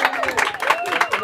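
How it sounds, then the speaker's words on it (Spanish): An audience at a birthday party with a youth mariachi band claps and cheers for the birthday girl, a short burst of scattered applause and crowd noise under a voice speaking. "una bulla, un aplauso para ella"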